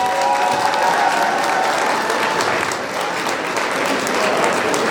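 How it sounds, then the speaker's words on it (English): Dense, steady applause from a large audience at the Jamaica 60 Diamond Jubilee Gala, continuous clapping holding at an even, loud level throughout with a faint crowd murmur beneath. "And while the applause continues,"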